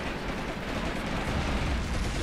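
Dense, continuous rumbling roar of close artillery fire in the war game Graviteam Tactics: Mius Front, loud broadband blasts blending into one another without a break.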